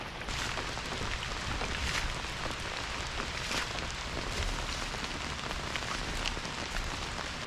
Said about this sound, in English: So it's been raining all night and all morning